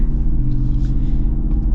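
Low, steady rumble of a 2026 Jeep Gladiator with a V8 Hemi engine while driving, a deep continuous drone close to the cabin with no talk over it.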